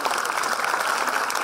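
Audience applause for choirs at a church choral event, a loud, dense burst of continuous clapping filling the short moment with no speech.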